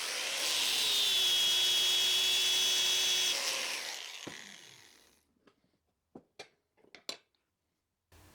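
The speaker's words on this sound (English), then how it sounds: "if you really want to get something flat, you need a sanding disc with a rubber backing pad" A sanding disc on a rubber backing pad grinding metal hard bearing material, a loud steady whine with a rising then falling pitch that fades out after a few seconds, followed by a handful of sharp clicks and knocks.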